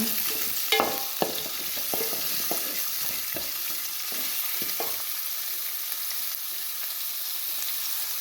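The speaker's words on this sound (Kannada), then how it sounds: "ಈರುಳ್ಳಿ ಕಟ್ ಮಾಡ್ಕೊಂಡಿದ್ದೀನಿ ಅದು ಈರುಳ್ಳಿ ಹಾಕೊಳ್ಳೋಣ" Chopped onion sizzles steadily in a hot pan for carrot palya, a dry vegetable stir-fry. A spoon scrapes and knocks against the pan in irregular bursts during the first five seconds, and a continuous frying hiss carries on alone throughout.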